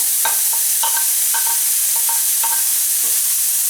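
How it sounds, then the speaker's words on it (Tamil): Beetroot sautéing in ghee for beetroot kheer, a constant loud sizzle broken by periodic clinking spoon strokes against the pan, close up with no talking. "இப்போ வந்து இந்த நெய்யிலே நம்ம வந்து இந்த பீட்ரூட்டை வந்து வதக்கலாம்."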